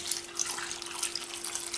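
Water pours steadily into a saucepan in a home kitchen, a continuous splashing hiss lasting the whole short stretch with no talking.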